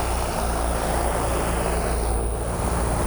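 Powerful fans roar continuously, blowing sand in a simulated sandstorm over a race engine, with a dense, rushing whoosh and low rumble, loud and unbroken throughout, like a violent blast of wind.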